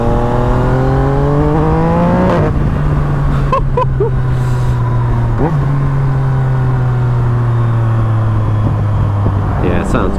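A gen 2 Yamaha MT-09 motorcycle engine revs up close and loud, its tone climbing and then dropping back to a steady, throbbing idle that holds to the end.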